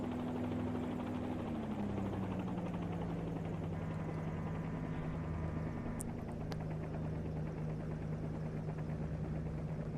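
A simulated helicopter's engine and rotor drone steadily in a flight simulator game, with the engine pitch dropping after the throttle is chopped and a constant whirring hum continuing throughout.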